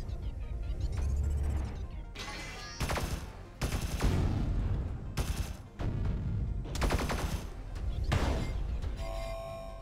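A weapon in the Sublevel Zero game fires in repeated loud bursts of rapid shots with crashing impacts, separated by short pauses over a low rumbling drone.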